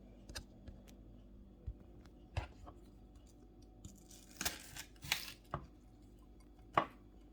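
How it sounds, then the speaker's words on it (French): A knife chopping onions on a board for a Tunisian sauce: sparse, separate sharp cuts at an irregular pace, close and fairly quiet, with no talk. "là je suis en train de couper les oignons"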